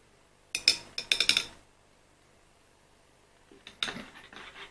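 Glasses of whiskey drinks, an old fashioned among them, give off bright clinks and rattles as they are stirred, in two short clusters separated by a quiet pause.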